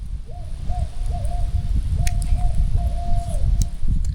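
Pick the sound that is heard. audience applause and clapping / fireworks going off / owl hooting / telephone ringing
owl hooting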